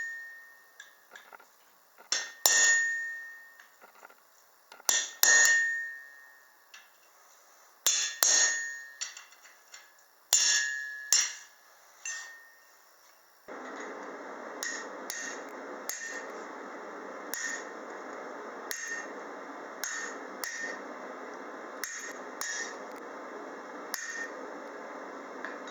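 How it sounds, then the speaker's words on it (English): A blacksmith strikes a cut chisel with a hammer to cut off hot steel: a series of sharp, ringing metallic strikes spaced a couple of seconds apart, then quicker lighter taps over a steady background noise. "you can follow that score line with a cut chisel and cut it off"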